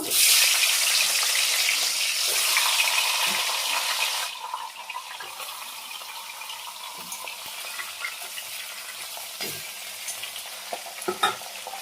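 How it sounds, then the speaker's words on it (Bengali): Fish heads fry in hot oil in a kadai, beginning with a loud, fierce sizzle that settles after a few seconds into a quieter, steady hiss dotted with close pops and spits, no one talking. "প্রথমে মাথাগুলো ভেজে নেব"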